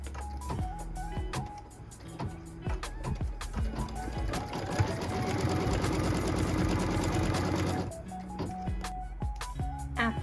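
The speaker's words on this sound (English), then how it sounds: "This is the tack down line for piece number 3." A sewing machine stitches the tack down line on a quilt block, running in a rapid, steady mechanical whir that speeds up through the middle and then slows again, close and clear.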